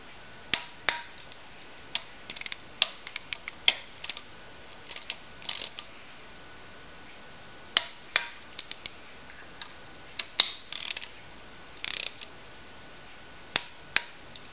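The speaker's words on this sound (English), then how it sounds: "Oil pump, 6mm bolts, 10 Newton meters. So I have my wrench set for 10 Newton meters." Sharp mechanical clicks from a torque wrench snug 6mm oil pump bolts to 10 newton meters during a V-max engine assembly, scattered single and double ticks with pauses between, close and crisp, no talking.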